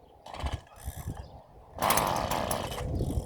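A STIHL FS 56 RC string trimmer on full choke is pulled to start: a couple of short ratcheting cord pulls, then the small engine sputters into a brief rough, buzzy run, close by.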